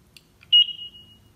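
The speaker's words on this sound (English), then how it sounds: "Now with those beeps, it has indicated that my Talons are now updated with the latest software." Short electronic beeps from Talon devices signal that a software update pushed through the Android Talon app has finished: two faint blips, then a clearer sustained tone that fades out over quiet background.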